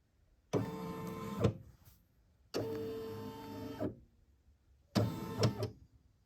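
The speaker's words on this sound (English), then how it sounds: "do a trace on my machine, so I know exactly where it's going to go" A single-needle embroidery machine runs its design trace on a towel job, three separate bursts of smooth motorized whirring with short mechanical clunks at their ends, separated by silence.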